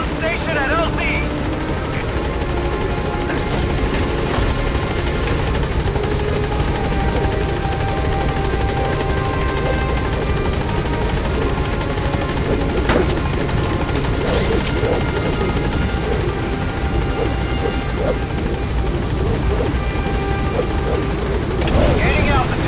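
Pequod support helicopter from Metal Gear Solid V arriving at a landing zone, a steady loud rotor and engine roar throughout with a brief crash-like thump midway, game radio voices talking over it.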